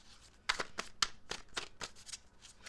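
Tarot cards are shuffled by hand during a reading, giving a run of about eight crisp riffling bursts in an uneven rhythm, close and fairly quiet, with no talking.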